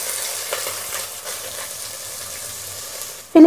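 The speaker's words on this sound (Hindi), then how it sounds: "घी गरम हो गया, अब इसमें इलायची और लौंग डाल देंगे।" Cardamom pods and cloves sizzling in hot ghee for a sweet rice dish, a steady close crackle and hiss that runs evenly, then a brief louder clatter right at the end.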